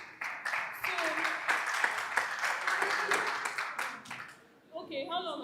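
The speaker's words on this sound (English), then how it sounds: "clap for him, please." Audience clapping at a SUI campus event, a crowd applauding steadily for several seconds with voices mixed in, then fading into quiet before speech resumes.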